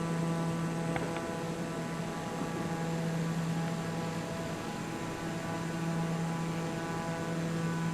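Propeller airplane engine in a flight simulator game, a steady droning hum with a strong low tone and dense harmonic buzz, continuous and even throughout with no talking.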